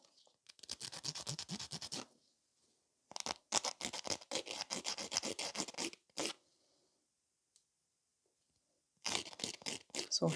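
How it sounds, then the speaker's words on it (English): Close, rapid back-and-forth rasping of a nail file shaping and shortening a fingernail, in dense bursts of strokes separated by short pauses and a few isolated scrapes. "So I'm just filing the entire surface of the nail."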